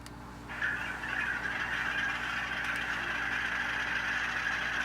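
An HO-scale diesel locomotive sound decoder starts up, kicking in after a brief quiet moment and then settling into a steady, low, idling engine rumble that continues unbroken.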